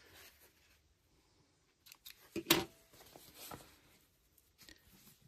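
Scissors snip off a loose thread on a zippered sewing pouch, giving a brief, close crisp cut. Faint handling rustles of the fabric come before and after it in an otherwise quiet room.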